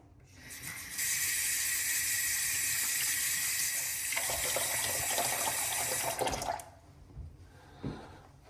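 A tap runs steadily into a sink as a face is rinsed after a shave, a close, continuous broadband gush lasting about six seconds before cutting off, followed by a few faint splashes and drips.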